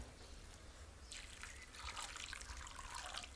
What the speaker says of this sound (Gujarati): આમાં બેમાં આપણે પાણી નાખી દઈએ